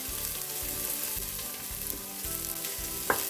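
One medium chopped onion frying in about half a cup of hot oil, a steady close sizzle with soft rhythmic stirring thuds and a brief sharper scrape near the end, with no talking.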